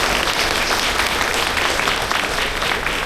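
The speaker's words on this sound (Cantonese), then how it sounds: "大家俾啲掌聲鼓勵下呢啲年輕人好嘛？" A seated audience at a trade association's inauguration ceremony for car battery and tyre businesses claps in a dense, even burst of applause, filling the room at steady loudness throughout.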